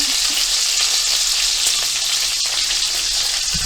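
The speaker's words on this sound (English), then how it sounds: "cooking bacon" Bacon fries in a pan with a loud, steady crackling sizzle that fills the whole stretch, with a couple of small pops and one sharp tick near the middle.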